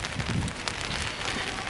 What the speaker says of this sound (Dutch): Je hoort de regen misschien wel op de paraplu tikken.